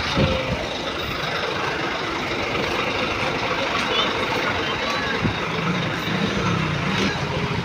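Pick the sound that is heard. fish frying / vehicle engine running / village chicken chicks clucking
vehicle engine running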